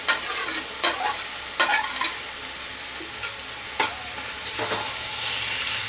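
Jackfruit and potato stir-fried in a tomato spice masala, with the spatula scraping and clacking in a few distinct bursts against a steady close sizzle in the pan, and no voices.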